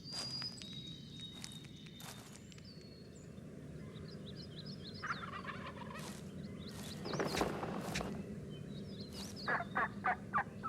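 Wild turkey gobbling several times in the open, rapid warbling bursts over a steady bed of natural ambience, with footsteps and rustling nearby and a louder cluster of calls toward the end.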